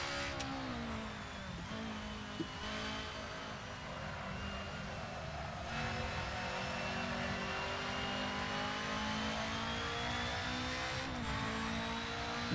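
DTM race car engines roaring at Mugello in a racing video game, a steady sustained engine drone with shifting pitch as cars run side by side, no talk over it.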